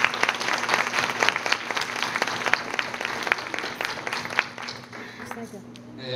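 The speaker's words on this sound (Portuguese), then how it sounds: "eu gostaria de pedir uma salva de palmas para a irmã Dermilene" School audience applause for Sister Dermilene at a talk, a dense round of clapping with sharp individual claps standing out, tapering off toward the end.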